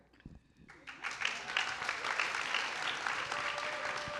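A crowd bursts into sustained applause after a brief pause, steady and full, continuing without letup.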